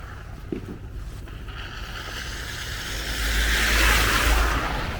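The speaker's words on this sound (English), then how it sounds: "Even though the road is slippery, these guys still driving very fast." Cars driving fast along a slippery, snow-covered road during a winter snowstorm in New York, heard as a steady broadband rush of tires and engines that swells as a vehicle passes close. No voices.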